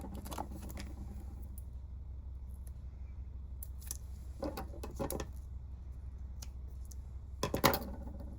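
Scissors cutting long strips for a Christmas craft pin, a series of close, sharp snips scattered over a quiet background, the loudest near the end.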